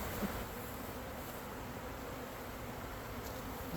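Honey bees buzz inside an opened hive during maintenance, a dense, continuous hum of many wings close by, steady in level with a few brief louder passes.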